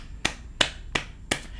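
Four sharp, evenly spaced hand claps ring out close and crisp in a quiet room, each a dry snap-like crack about a third of a second apart.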